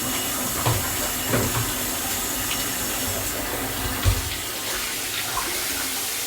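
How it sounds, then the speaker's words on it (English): Hot water runs steadily from the tube of a water pick, a constant close hiss of flowing water with a few faint knocks and no talking. "First get the water flowing here from the tube."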